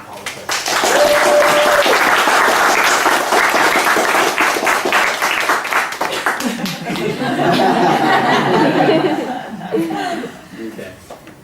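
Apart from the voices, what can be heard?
audience applause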